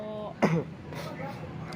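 A person with a cough clears their throat once in a short, rough burst, close by, amid quiet talking.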